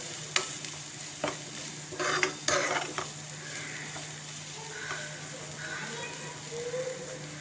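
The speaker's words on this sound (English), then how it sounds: "So let's lightly roast the pasta," Vermicelli pasta lightly roasting in a pan for a mixed vegetable soup, with a soft steady sizzle and a few sharp clinks of stirring near the start, then quieter frying at an even level throughout.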